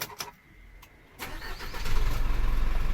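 A Hino 500 Dominator FC9J six-wheel dump truck with a 175-horsepower diesel cranks and fires after a few faint clicks, settling into a loud, deep, close idle rumble, with no talk over it.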